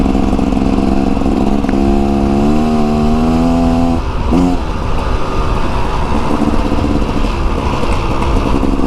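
A stock 2024 Beta Xtrainer dirt bike engine drones steadily throughout, rising in pitch through a rev around the two-to-four-second mark, then settling back to a rough, continuous running note while riding through brushy terrain.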